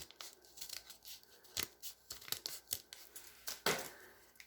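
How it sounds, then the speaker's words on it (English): Scissors snip through paper to cut out a flower petal, a series of quiet, close crisp snips and rustles at an irregular pace with no talking. "So I'm just going to cut a petal out here just to show you"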